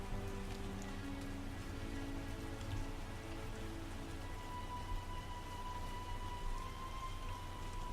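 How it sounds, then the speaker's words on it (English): Steady rainfall in The Witcher video game, a dense continuous patter of drops on surfaces at even loudness throughout, with a faint thin tone running underneath and no talking. "Why is it raining so much?"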